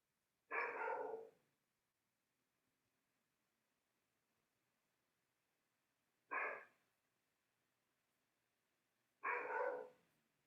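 A dog barks three times, separated by long quiet gaps, each a short loud burst heard alone against near silence.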